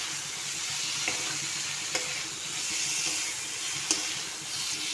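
Salted, spiced potatoes frying in a pan, a continuous dense sizzle with a few faint utensil taps, close and steady, no voices.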